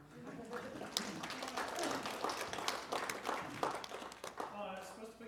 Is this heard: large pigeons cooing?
no